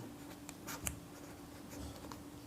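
Chalk or marker scratches across a board during a class 12 mathematics lesson, a few faint, short strokes and taps in a quiet room, without talk.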